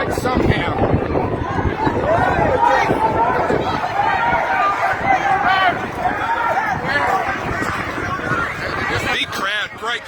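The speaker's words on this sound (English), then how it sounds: "Big crowd, great crowd." A large protest march moves through Melbourne streets, a dense, continuous roar of crowd noise with overlapping voices and chanting, steady and loud throughout under gusty wind.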